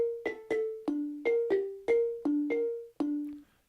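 Synth note sequence from the Harvest sequencer, about a dozen short plucky tones with sharp attacks hopping between a few pitches in a bouncy rhythm, clean and fairly quiet.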